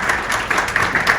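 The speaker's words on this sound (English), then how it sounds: "Let's give him a nice round of applause to Mr. Katsos." Audience applause at an annual meeting of a Hellenic federation in a hall in Branchburg, New Jersey: steady, dense clapping from a seated crowd that holds at even loudness for the whole stretch, with no voices over it.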